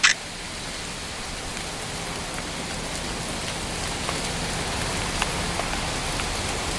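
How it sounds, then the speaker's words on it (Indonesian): Heavy rain pours steadily onto a roof and terrace, a dense unbroken hiss with scattered drops ticking on the surface and a brief louder spatter at the start; no voices. "banter suara udan terus deras"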